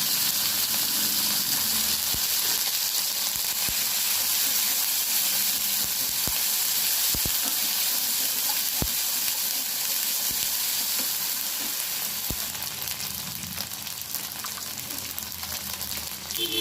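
Ginger-garlic paste and onion paste frying in hot oil in a pan, a loud, steady sizzle that fills the whole stretch, with a few faint scraping clicks of stirring.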